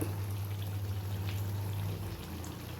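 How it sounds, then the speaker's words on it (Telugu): Water pours steadily into a pan of brinjal curry paste, giving a continuous splashing, bubbling wash that runs loud and close before easing off near the end. "దీంట్లో కొన్ని వాటర్ వేసేసి వేస్తున్నాను"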